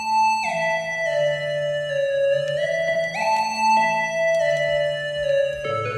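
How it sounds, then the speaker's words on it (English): An analog fizz lead synthesizer plays a bright, buzzy melody alone. It steps through sustained notes with gliding pitch changes and a steady, even level for several seconds. "it's just this analog fizz lead here. It sounds like this."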